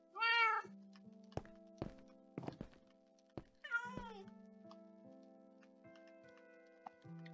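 Minecraft cats meowing, two clear meows several seconds apart, set against sparse game ticks, clicks and soft tonal hums in a quiet scene.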